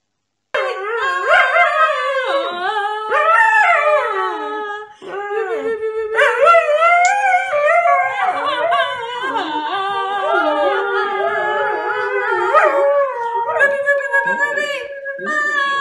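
A dog howls and yips in long, wavering, tonal bursts with a few short barks and whimpers, loud and close, continuing with brief pauses, mixed with a person's voice that howls along in imitation.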